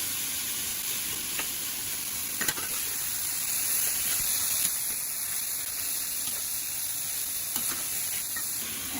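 Ground meat sizzles steadily in a hot pan while browning for mapo tofu, a continuous close frying hiss with occasional stirring scrapes and pops, no talking.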